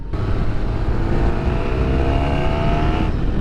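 A Yamaha YZF1000R Thunderace motorcycle engine runs loud and close, a rough steady roar with a slight rise in pitch holding for several seconds, no voices.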